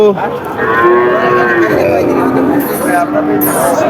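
Several cattle moo loudly and repeatedly nearby at the Barobazar cattle market, long drawn-out calls overlapping, with a busy crowd murmuring in the background.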